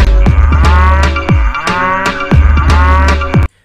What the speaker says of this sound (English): Wow, beautiful battery operated cow.